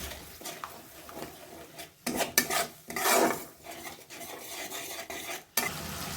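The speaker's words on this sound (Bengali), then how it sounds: "কাজু আর পোস্ত বাটাটা দিয়ে দিলাম। দিয়ে আবার একটু মিশিয়ে নিলাম।" Cashew and poppy seed paste being stirred into spices in a pan for a Bengali cauliflower roast, with close, irregular scraping and sizzling strokes of the spoon in bursts, loud and alone.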